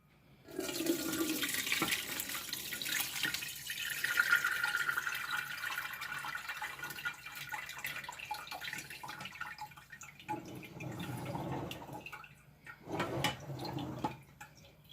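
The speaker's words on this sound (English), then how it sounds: "I'm going to go ahead and put this in a colander and get all the water out of it" Water drains from rehydrated potatoes tipped into a colander in a kitchen sink: a steady, close rushing pour for about ten seconds, then thinner trickles and splashy bursts.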